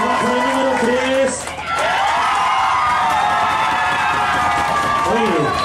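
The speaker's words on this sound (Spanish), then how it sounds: "esta gente le aplauda a toditos iguales" A crowd on the Triton yacht at San Andrés Island shouts, cheers and claps for contestant number three, loud and continuous with a brief dip near the middle, with voices and shrieks mixed into the noise.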